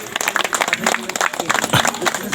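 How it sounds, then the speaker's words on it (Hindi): Audience clapping at a Nagpuri folk gathering, a dense run of sharp, uneven claps close by, loud and continuous with some voices mixed in. "चलिए ठीक है गुरु ताली को बजाओ"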